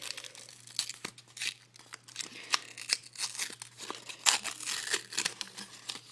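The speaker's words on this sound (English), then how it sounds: "I'm just gonna try and rip it open" A PlayDoh surprise egg wrapper is ripped and crinkled open by hand, giving close, busy bursts of tearing and crackling plastic that run steadily with short pauses and sharper spikes.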